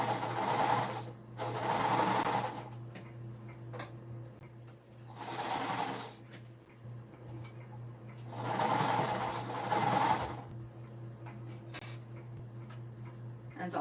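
A home sewing machine stitches a curved seam in minky fabric for a stuffed ball, running in several close bursts of rapid whirring and needle ticking separated by short pauses.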